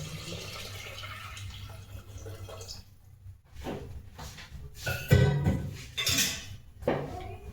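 Water from a lota is poured into a metal cooking pot in a home kitchen: a soft running splash with clanks of metal vessels and a few louder knocks and sloshes, close and without talk.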